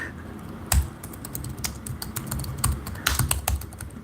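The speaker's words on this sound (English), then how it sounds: "I cannot type and talk at the same time, guys." Keyboard typing, quick irregular bursts of key clicks close to the microphone, some heavier thumps among lighter taps, with no talk.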